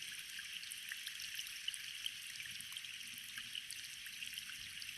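Steady rain patters and trickles across trees and plants in an outdoor setting, a continuous faint hiss of drops with no voices.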